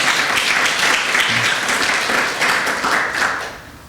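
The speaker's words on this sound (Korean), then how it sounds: "우리 큰 박수로 환영하겠습니다" A church congregation claps warmly to welcome visiting guests, a steady wash of many hands filling the room for several seconds before thinning out.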